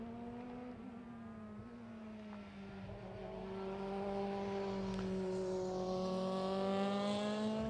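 Euroformula race car accelerating out of the pit lane at Jerez, Spain, during 2017 qualifying: a steady engine drone at moderate distance climbs in pitch and grows louder, with no talk.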